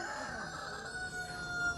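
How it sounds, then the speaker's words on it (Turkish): A rooster lets out a brief, sustained crow, fairly faint with a strained, drawn-out tone. "Şurada bir astrolog horoz var"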